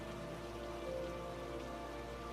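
Heavy rain falling on a muddy path, a steady, even hiss of drops on the ground with no break, fairly close and alone without voices.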